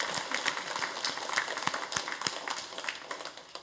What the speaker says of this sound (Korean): 우리 입교 받은 우리 세 분을 위해서 다시 한번 축복의 박수 한번 보내겠습니다